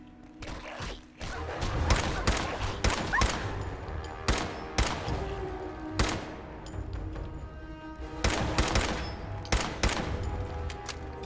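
Gunfire in Fallout 4, repeated loud close bursts of rapid shots in clusters with brief pauses, sharp cracks over a noisy battle background, no speech.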